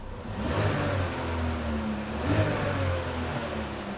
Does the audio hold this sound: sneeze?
no